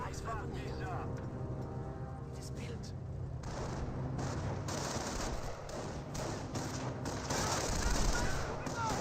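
Small arms fire in a Company of Heroes battle: steady rattling machine-gun and rifle bursts under continuous commentary talk, with battle noise swelling near the end.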